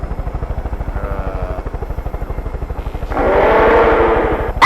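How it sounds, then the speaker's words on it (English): A toy camera helicopter over a Hot Wheels diecast race track gives a steady, close rotor thump that swells louder and denser toward the end, heard alone without talk. "So let's go check the chopper cam."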